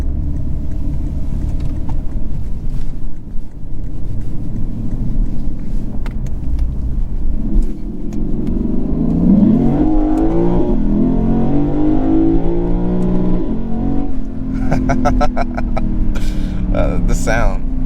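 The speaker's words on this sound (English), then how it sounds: "The sound, like the 5-liter V8" A 2022 Lexus IS500 with a 5-liter V8 revs from a rumbling idle, rising in pitch to a throaty crescendo and then easing back. Speech can be heard over the engine.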